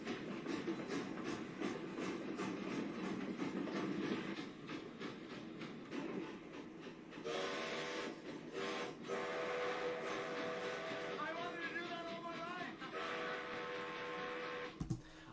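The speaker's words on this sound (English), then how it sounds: "I can really imagine Cinder loving the sound of that whistle" Steam train whistle sounding over railway noise, with long sustained tonal blasts in the second half above a steady rumble of rolling stock, no talk.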